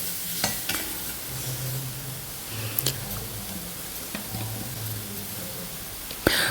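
Chili powder stirred into onions and ash gourd frying in a pan for a simple curry, a soft continuous sizzle with intermittent spoon clicks and scrapes, one sharp knock near the end, and no voices.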